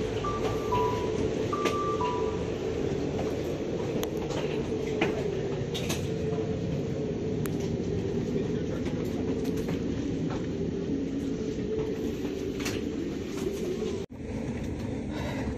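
An Amtrak passenger train interior carries a steady, low rumbling drone of the moving carriage, with faint scattered clicks and a short tonal chime early on, continuous throughout.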